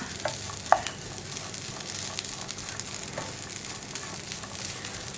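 Drumstick leaves and cowpeas with coconut are stir-fried into a thoran until dry, giving a steady sizzle broken by a few sharp scraping stirs, with no talking.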